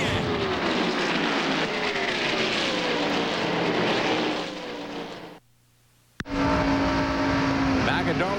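NASCAR Busch Grand National cars race at Darlington Raceway, South Carolina, in the 1998 Dura-Lube 200, heard from a roof-mounted camera as a loud, continuous engine roar. A commentator talks over it, and the sound cuts out briefly before the roar returns.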